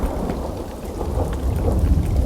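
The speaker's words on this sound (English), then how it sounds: "It's raining." Steady heavy rain with deep rolling thunder in a film scene, a continuous low rumble building slightly over a wash of rainfall, no voices.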